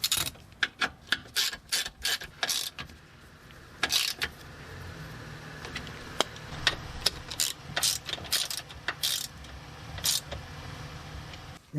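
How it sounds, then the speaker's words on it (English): A hand ratchet snugs 8mm bolts on a plastic underbody shield of a 2010-2016 Buick Lacrosse, Regal or Chevy Malibu, making close bursts of quick clicking with a quieter stretch in the middle. "And then just tighten those three 8mm bolts back down."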